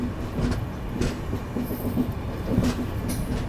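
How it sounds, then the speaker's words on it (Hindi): A passenger train rolls through Kapasan station at night, heard from inside a 2AC coach as a steady low rumble with faint rhythmic wheel clatter throughout and no talking. "अभी हम लोग कपासन स्टेशन क्रॉस कर रहे हैं"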